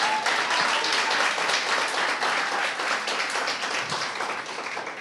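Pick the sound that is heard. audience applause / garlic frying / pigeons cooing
audience applause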